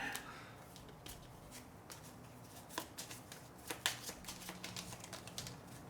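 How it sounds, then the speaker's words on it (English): Decks of cards being shuffled during a two-player game of Dune Imperium: Rise of Ix, a run of soft crisp riffling and tapping clicks that grows busier toward the end, quiet and close with no speech. "it's going to be shuffling our decks"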